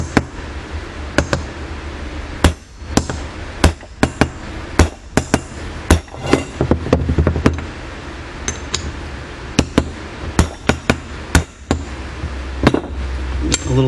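A hammer strikes a 5/8 socket to drive a part down during a 1971 Camaro power steering pump rebuild, with many sharp metallic blows in irregular bursts, loud and close, over faint background noise.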